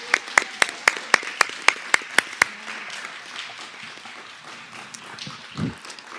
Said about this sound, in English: Let's get a round of applause for those candidates.